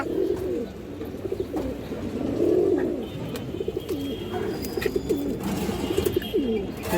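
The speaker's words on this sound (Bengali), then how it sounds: "এই যে দেখেন নটের ডাকটা দেখেন" Male red Barola pigeon cooing in repeated rolling phrases, close and clear over a low background rumble, with a few faint chirps.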